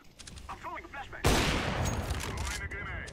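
Gunfire in the video game CS:GO, a loud burst of sustained shots erupting partway through and continuing to the end, preceded by quieter game sounds and a faint voice.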